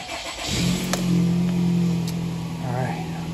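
A 2015 Nissan Rogue with a CVT, its engine idling and rising in a smooth hum as the selector is moved through the gears, close by, with a few faint clicks.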